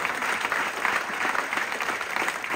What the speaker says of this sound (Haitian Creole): Applaudis chaudement.